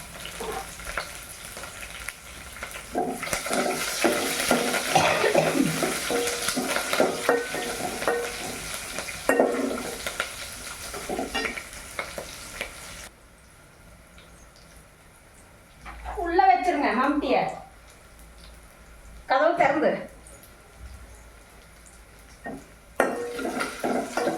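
Onion, dried red chillies and curry leaves are being sautéed and stirred in a pan. A broadband sizzle with scraping runs through the first half. Louder bursts of stirring and voices come later, separated by quieter gaps.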